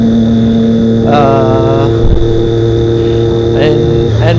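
A 2016 Triumph Daytona 675R sport motorcycle engine humming steadily while riding, with a rising-and-falling throttle swell and quick shift blips, and a rider talking over it throughout.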